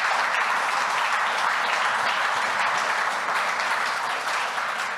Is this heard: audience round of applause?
yes